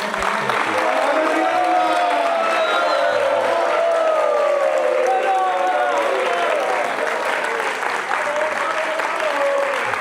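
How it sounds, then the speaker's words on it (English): An audience at Bhaktivedanta Manor applauds Maharaj after a Bhagavad Gita program with bhajans, steady clapping mixed with a few cheers and whoops, and voices murmuring in the crowd. "Let's give a big round of applause"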